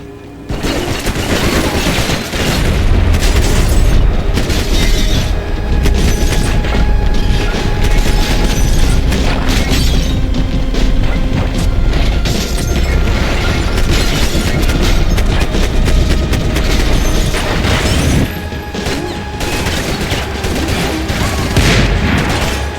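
Relentless laser-sight gunfire and explosions in the action game Max Payne 3, a loud, continuous wall of shots and booms with rumbling blasts and almost no pauses.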